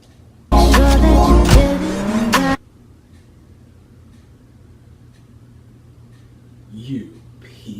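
Car engine revving and tires squealing in the 2006 video game Saint's Row, a loud, dense burst of motor roar with skidding that cuts off abruptly after about two seconds, followed by quiet background with faint sounds.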